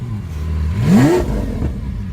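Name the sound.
Lamborghini Aventador Roadster revving with IPE exhaust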